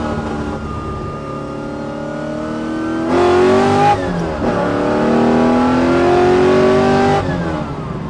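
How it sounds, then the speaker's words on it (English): A 1967 Chevrolet Camaro pro touring restomod accelerates hard, its engine climbing through the revs in loud sweeping pulls with a brief gear change between them, heard from inside the car. "let's do a little pull in this car"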